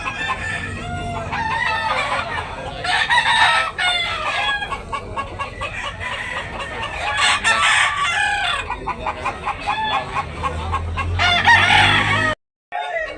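Roosters crowing repeatedly with clucking in between at a fighting-cock market in Tabunok, Talisay, Cebu, several birds close and loud, overlapping calls amid crowd noise.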